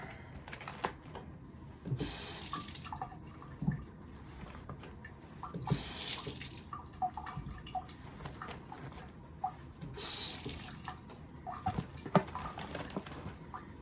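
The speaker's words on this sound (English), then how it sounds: "Just giving my corn a little wash" Corn is rinsed under a running kitchen tap while beef noodle soup is made. Water gushes in several bursts amid clattering handling noises, fairly close, with no talk.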